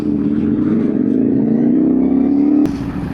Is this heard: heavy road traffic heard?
yes